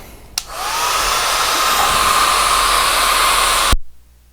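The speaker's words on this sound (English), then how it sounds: "I'm gonna just get the dryer and blow dry it real quickly here" A hair dryer runs steadily for about three seconds, blow-drying a watercolor painting of a river and bridge, with a loud, even rushing whoosh that starts and cuts off abruptly.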